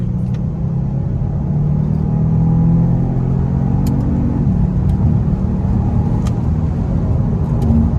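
A Genesis G80 3.3t fitted with DIY intakes accelerating in third gear, a steady loud engine drone that rises in pitch as it pulls, heard from inside the cabin with constant road rumble and no talking.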